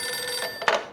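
A telephone bell rings once in Max Payne 2, a short near trill that swells and cuts off, alone without voices.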